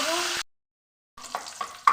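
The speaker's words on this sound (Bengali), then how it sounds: "পেঁয়াজও আমি ভেজে নেব।" Sliced onions fry in a pan for an eggplant chili dish, stirred with a spatula: a hiss of frying, then a brief silence, then scattered scraping strokes and sizzle.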